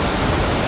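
Dolgoch Falls, a waterfall in North Wales, roars as a steady, loud, broadband rush of falling water, heard close and unbroken.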